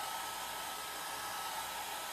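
A hair blow dryer runs continuously, a loud, steady airy rush used to push alcohol ink across a painting surface, with no pauses or talk.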